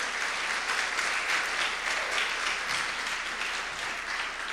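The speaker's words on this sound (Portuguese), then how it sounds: "pode aplaudir ao Senhor" Applause from a church congregation fills the space, a dense, steady wash of many hands clapping without a break.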